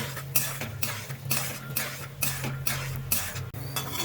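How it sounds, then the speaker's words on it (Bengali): Peanuts are fried in mustard oil in a kadai. A utensil scrapes and stirs them in rhythmic strokes, with clinking metal over a low sizzle, close up and with no voices. "এখন আমি বাদামটা ভেজে নেব।"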